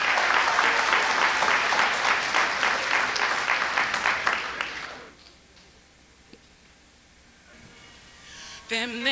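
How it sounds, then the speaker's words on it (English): An audience applauds a female singer at a 1991 cultural performance, loud sustained clapping for about five seconds that then fades out, followed by a quiet room before music starts. "we would like to give her a very big round of applause"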